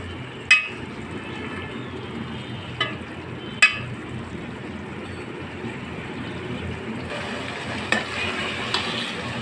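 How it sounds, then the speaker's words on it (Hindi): Spinach keema with spices fries in a pan, a soft, steady sizzle running throughout, broken by a few sharp knocks of the spoon against the pan, close but fairly quiet. "अब ये सब मसाले मिक्स करके इसको अच्छी तरह भून लीजिए"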